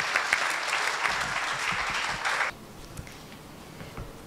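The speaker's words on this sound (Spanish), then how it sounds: "Desde ahí nomás, un fuerte aplauso a Fabiola" Crowd applause welcoming a speaker at a talk on big data and access to information, a full, steady wash of clapping that stops sharply partway through, leaving quiet room noise.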